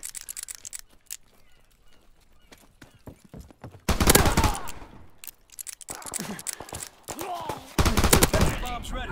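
Rapid bursts of gunfire from Call of Duty: WWII, loud repeated volleys and automatic fire in clusters, with scattered single shots and game noise between the heavier stretches.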